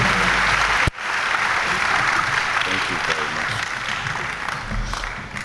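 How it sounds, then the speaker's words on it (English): Sustained applause from an awards ceremony audience honoring top students, broad and steady clapping that fills the room after a brief break near the start. "With a resounding clap offering, please help me welcome on stage the Honorable Reverend John Ntufo."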